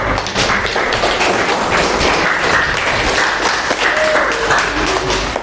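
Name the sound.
classroom applause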